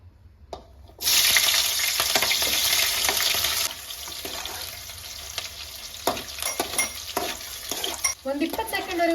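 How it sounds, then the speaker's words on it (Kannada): Cut green chillies hitting hot oil in a kadai burst into a loud, close sizzle that settles into steady frying, with stirring clinks and scrapes toward the end. "ನಾನು ಈ ರೀತಿಯಾಗಿ ಮೆಣಸಿನ್ಕಾಯಿನ ಫ್ರೈ ಮಾಡ್ಕೊಂಡಿದ್ದೀನಿ"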